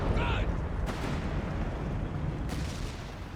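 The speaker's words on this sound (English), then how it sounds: "Double 6-pounder guns, only one hits." Two 6-pounder anti-tank guns firing in Company of Heroes 3 over a steady rumble of battle: two heavy reports about a second and a half apart, with a faint call heard near the start.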